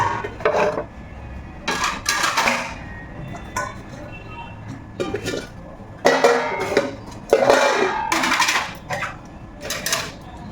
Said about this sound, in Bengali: কয়েকদিন ধরে রাতের বেলায় বাসন ধুয়ে রাখি